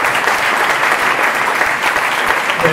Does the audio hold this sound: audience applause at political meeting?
yes